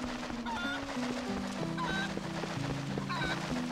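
A golden cuckoo chicken in Twilight Princess clucks and squawks in repeated short game calls over steady background music, with a quiet voice now and then.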